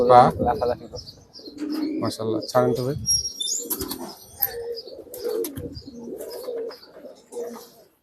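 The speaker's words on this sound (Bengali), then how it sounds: "অনেক লাফায় কবুতর গুলা" Pigeons flutter, hop and flap their wings in brief bursts with soft coos and chirps mixed in, close by, while people talk over them.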